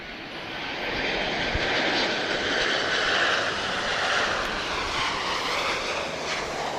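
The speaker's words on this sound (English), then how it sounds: "Transavia arriving from Amsterdam 737-800" A Transavia Boeing 737-800 jet arriving at Lisbon Airport from Amsterdam, fitted with split-scimitar winglets, roars steadily and loud with broadband engine noise that swells slightly and holds throughout, with no talk.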